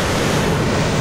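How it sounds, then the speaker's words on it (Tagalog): Loud, continuous surf from strong waves crashes on the shore at Bani, Pangasinan, with a broad roar, wind rushing across the microphone throughout. "Wala sobrang lakas ng alon oh."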